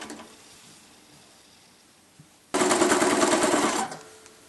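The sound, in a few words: sewing machine stitching binding onto a bag edge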